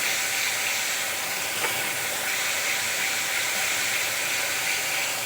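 Ginger and garlic paste with green chilli fries among onions in a hot pan, giving a loud, continuous hiss that holds steady throughout with no voices.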